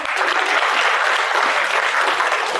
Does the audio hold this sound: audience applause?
yes